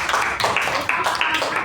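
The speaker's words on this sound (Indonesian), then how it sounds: "Kita kasih tepuk tangan." A fourth-grade classroom claps in a quick rhythmic pattern, steady bursts of hand claps mixed with children's voices, close and lively.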